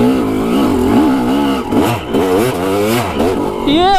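Dirt bike with a ball tire climbing a steep trail, its engine revving and bogging in loud, wavering surges close by, pitch rising and falling with throttle.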